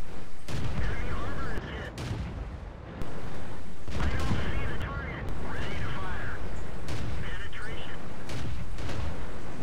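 Dense World War II shooter gunfire with repeated rifle shots and booming artillery-like bursts, loud and continuous throughout, mixed under commentary talk and game noise.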